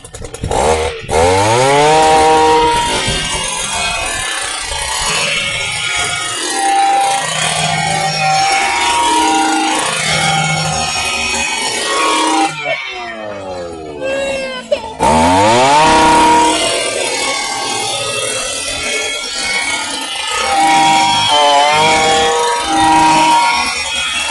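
A loud, continuous motorized drill roar with rising and falling pitch, drilling holes in soil, running almost nonstop and briefly cutting out midway before starting again.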